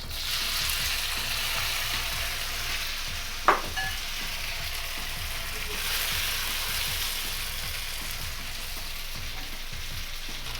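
Hor fun rice noodles hit hot oil in a pan over high heat, crackling and sizzling steadily throughout with a single sharp clack partway through, no voices present.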